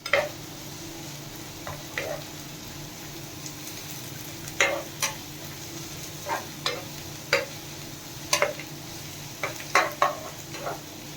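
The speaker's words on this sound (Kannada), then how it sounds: "ಎಣ್ಣೆ ಹಾಕಿ ಎಣ್ಣೆ ಸ್ವಲ್ಪ ಕಾಯಿಸಿದ ನಂತರ ಅದರ ಮೇಲೆ ಮತ್ತೆ ಈರುಳ್ಳಿ ಹಾಕೋಣ." Onions fry in heated oil on a tava with a soft continuous sizzle, broken by repeated sharp scraping and stirring clicks of a utensil against the pan, close by, without talk.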